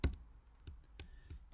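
A computer keyboard typed on during a Spark and Jupyter Notebook session, with a few sparse, soft clicks spread over a second and a half, ending in keypresses that include the enter key.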